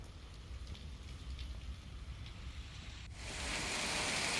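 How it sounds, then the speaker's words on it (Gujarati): Steady rain falls over Bhavnagar during a monsoon morning, a dense continuous hiss that swells noticeably louder partway through, with no voices. "ભાવનગર શહેર અને જિલ્લામાં વહેલી સવારથી જ વરસાદ શરૂ થયો"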